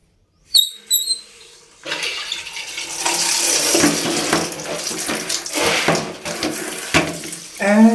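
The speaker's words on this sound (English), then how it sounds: "And now I'm going to turn the water on." A tap opens with a clunk and a few squeaks, then water rushes steadily into a water heater, a loud close flow with faint rattles and a squeak near the end.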